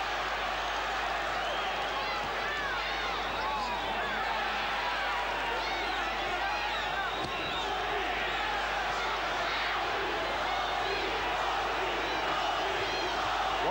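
Boxing arena crowd at a Tony Lopez vs Jorge Paez fight, a dense continuous roar of voices and chanting filling the hall at steady loudness throughout, with no single voice standing out.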